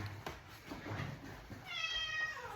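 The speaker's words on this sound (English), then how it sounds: "But that's the cat." A house cat meows faintly indoors, one short call followed by a longer wavering meow over quiet room noise, with no one talking.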